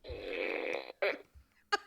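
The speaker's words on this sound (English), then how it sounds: "My fart gun." A toy fart gun lets out a long buzzing, flapping blurt followed by two short sharp bursts, close and fairly quiet, with no speech over it.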